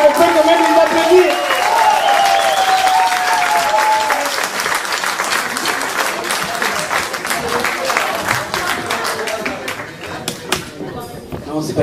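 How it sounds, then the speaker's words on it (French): Concert crowd in Le Vigan applauds a pair of first-time performers, loud dense clapping sustained for several seconds, with voices and a lingering tone at the start before the clapping dominates. "Donc on peut quand même les applaudir."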